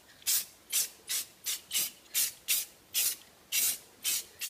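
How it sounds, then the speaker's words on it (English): An aerosol can sprays a light gloss coat of Flexidip onto car wheels in about ten short, even hissing bursts. The bursts come close and clear in a regular rhythm with brief gaps between them and no voices. "So I'm going to spray this on again lightly, not oversaturated because you don't want any runs"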